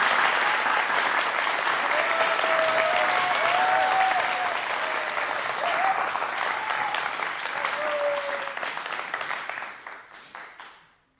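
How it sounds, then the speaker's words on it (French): Studio audience applauding Jamel Debbouze on a French TV show, with dense, sustained clapping and faint cheers that fade out near the end. "On l'applaudit."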